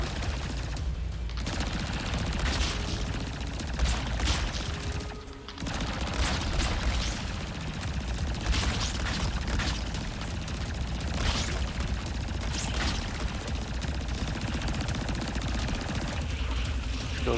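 Gunfire in the video game Ratchet & Clank Rift Apart: dense, rapid bursts of shots and impacts run almost continuously and loudly across the whole stretch, with a brief dip near the five-second mark.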